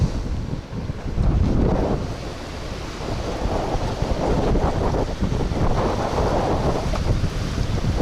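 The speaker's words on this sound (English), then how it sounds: "That wind, ooh, man." Strong wind buffets the microphone on the Florida Gulf Coast during a fishing outing, a loud continuous roar with gusty swells and a surf-like wash underneath, no talking.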